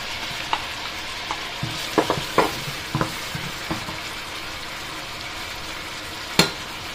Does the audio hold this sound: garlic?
yes